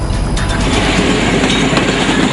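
The Rajarata Rajina passenger train, running from Vavuniya toward Anuradhapura, rolls past loud and close, its wheels beating a continuous clickety-clack on the rails with a steady roar of carriages.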